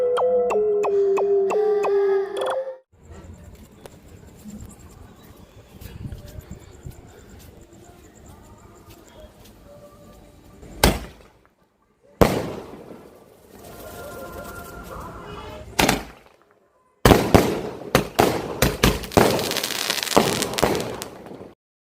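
Multicolour sky shot firecracker, a seven-shot Sivakasi cracker, firing outdoors: a few sharp bangs spaced seconds apart, then a dense crackling burst near the end, loud against a quiet background with no talk.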